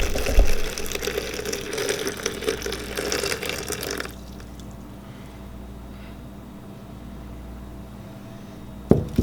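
Water pours and splashes into a purple crystal-growing mixture for about four seconds, then stops, leaving quiet room tone with a brief clink near the end.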